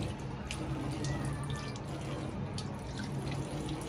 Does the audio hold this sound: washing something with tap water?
yes